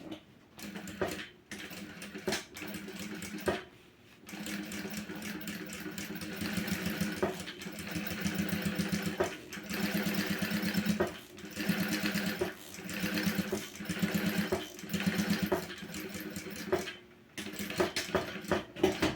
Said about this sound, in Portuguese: Agora, eu vou vir fazer uma costurinha na parte mais em cima, tá?